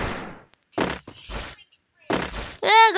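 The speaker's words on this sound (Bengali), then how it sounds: "এই গুলাগুলি কোন দিক গইতাছে?" Short bursts of gunfire from the Free Fire mobile battle game come in separate clusters broken by silence, loud and close, ending in a ringing, tonal game sound effect.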